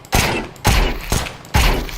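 Loud, close Ghost pistol fire in Valorant: four sharp, crisp shots at an uneven pace over two seconds, each with a short ringing tail, heard alone with no voices.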